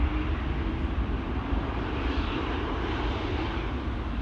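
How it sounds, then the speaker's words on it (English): Air France Embraer jet operating for KLM, its engines giving a steady broadband roar that swells slightly midway, fairly close and unbroken, with no voices. "And Air France Embraer over here, which is flying for KLM, flight 1419 to Nantes, actually."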